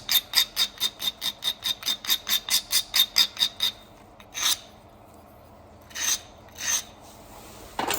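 A file rakes down a knife edge bevel in a fast run of about sixteen rhythmic rasping strokes, close and loud, followed by a pause and three slower separate scrapes.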